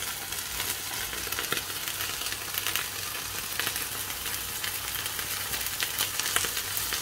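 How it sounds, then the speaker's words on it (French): Onions hit a hot frying pan over high heat for a cheeseburger, giving a dense, continuous close-up sizzle with faint crackles and no speech. "je vais rajouter les oignons"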